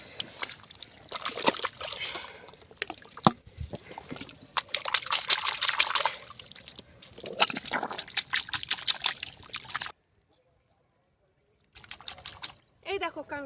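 Water trickles and splashes as mud is washed off at a riverside in the Sundarbans, uneven pouring and sloshing under frequent talk, then a brief silence before more splashing.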